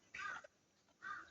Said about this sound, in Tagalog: Ang maririnig mo na lang dito yung huni ng uwak.